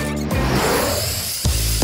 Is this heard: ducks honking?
no